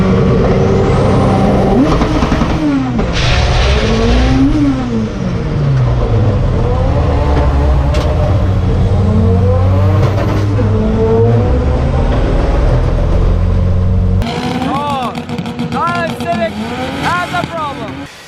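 An Island Civic race car makes a drag pass, its engine roaring loud and close as it revs and shifts repeatedly before the sound changes sharply near the end.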